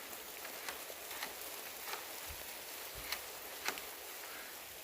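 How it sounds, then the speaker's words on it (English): Rain falling outdoors at a home construction site during a deadbolt installation, a steady soft patter with scattered heavier drops hitting nearby surfaces, moderately quiet and continuous throughout. "it's raining too much"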